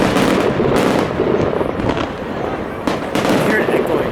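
Small consumer fireworks burst in the air in a quick cluster of loud, crackling pops near the start, fading to softer crackles before another sharp burst toward the end; voices murmur beneath.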